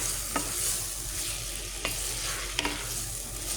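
Capsicum, bottle gourd and carrot stir-frying in a pan, a steady low sizzle broken by a few sharp scraping stirs, with no voices.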